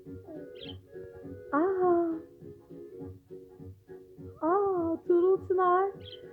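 A small budgerigar perched on a hand gives soft, bright chirps and warbles in short bursts, close by, while a child and an adult talk over and between the calls.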